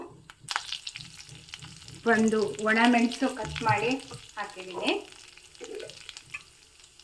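Mustard seeds, urad dal and curry leaves sizzle in hot oil for a South Indian tempering, a steady frying crackle running beneath someone speaking in Kannada throughout.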